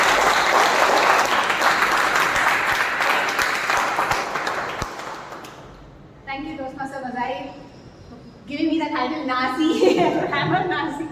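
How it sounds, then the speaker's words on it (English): Sustained, loud audience applause welcoming a speaker at a Toastmasters club meeting; dense clapping fills the first five seconds, then fades as talk continues over scattered claps. "Let's welcome her with a huge round of applause"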